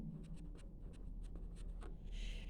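A green pen or marker scratches across a board or paper during a German language lesson, producing steady close strokes with short bursts and no speech over them.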